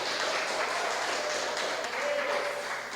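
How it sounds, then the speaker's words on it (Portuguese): A church congregation claps for the Lord, a broad, continuous spread of applause at moderate loudness, heard steadily throughout without speech. "Vamos aplaudir bem forte o Senhor."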